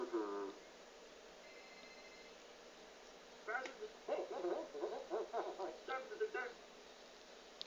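Phone ringing in the Whack Your Neighbor video game, a brief electronic ring pattern, then a run of rhythmic hooting game sounds, quiet and close, with a voice heard briefly.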